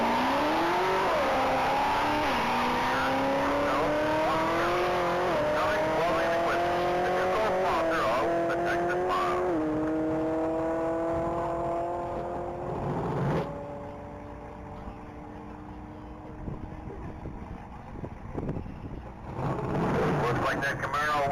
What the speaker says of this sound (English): It's a 2019 Chevrolet Camaro.